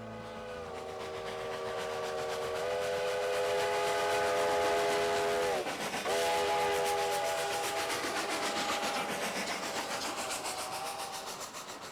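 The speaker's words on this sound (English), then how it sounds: "The locomotives that are being used this morning to pull a train up to Cumbres Pass are classified as K36 series locomotives" Baldwin K36 steam locomotives built in 1925 hauling a train up to Cumbres Pass, heard as a sustained multi-tone whistle that holds, dips briefly and resumes over a steady rumbling rail background.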